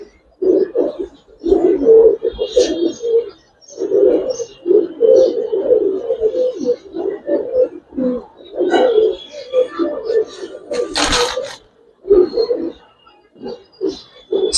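Gribaz coloring pigeons in a loft, cooing in repeated close throaty bursts with short gaps between them, with a few brief rustles and clatters mixed in.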